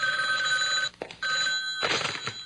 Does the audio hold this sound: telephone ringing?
yes